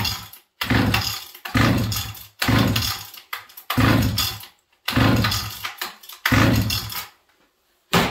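A Husqvarna 480CD chainsaw engine runs on choke, firing in repeated rough bursts of about a second each with brief gaps between them; the engine is close and loud.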